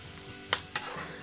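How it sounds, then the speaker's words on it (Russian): Sliced champignon mushrooms fry in vegetable oil in a hot pan, giving a soft, steady sizzle broken by two brief scraping clicks of stirring, quiet and close with no voices. "На разогретую сковороду наливаем немного растительного масла и отправляем обжариваться 250 грамм шампиньонов."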